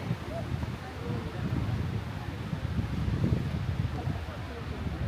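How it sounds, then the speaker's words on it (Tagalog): Steady, blustery wind at Mt. Fuji roars and buffets the microphone throughout, a broad low rumble with no clear pauses. "Sobrang lakas ng hangin."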